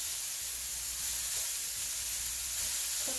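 Cauliflower frying in a pan for cauliflower fried rice gives a continuous close sizzling hiss with faint stirring clicks, no voices over it.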